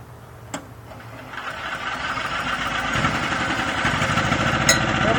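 A small 2.5 kW biogas generator engine runs steadily nearby powering a 0.55 hp InSinkErator motor on 110 volts, its thin buzzing drone growing gradually louder, with a couple of brief clicks.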